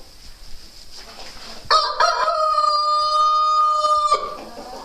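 A rooster lets out one long, loud crow close by inside a chicken coop in winter, after a quiet start, with no talking.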